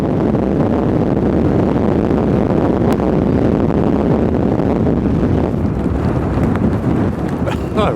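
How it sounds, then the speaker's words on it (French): Strong, violent wind buffets the microphone outdoors on a terrace near the Château-Frontenac in Quebec City, a loud continuous roar without letup. "les vents sont assez particulièrement violents à Québec"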